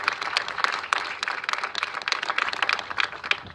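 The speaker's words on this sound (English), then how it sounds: "So let's give them all a round of applause on their success today." Applause at a government press event announcing action against fentanyl, dense and steady with sharp clap transients throughout, fairly close and without voices.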